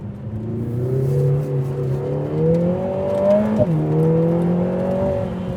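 A Lotus Emira turbo accelerates hard, its engine note climbing through the revs, dipping briefly at a gear change and then rising again, loud and close.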